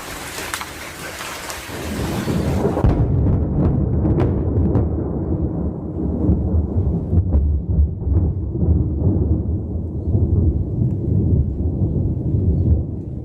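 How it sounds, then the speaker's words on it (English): A sharp, loud crack of thunder from a lightning strike on a town transformer breaks into a deep, sustained rumble, with heavy rain pouring steadily throughout. "a huge bolt of lightning struck a transformer within the town and let out a massive clap of thunder"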